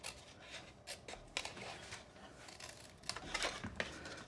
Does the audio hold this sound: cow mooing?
no